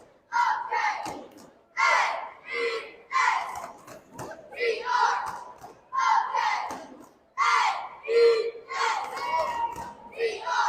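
Fans at a New Castle vs Anderson girls varsity basketball game shout a rhythmic chanted cheer spelling out the team name, short punchy group syllables in a steady cadence with brief gaps, moderately distant in a gym.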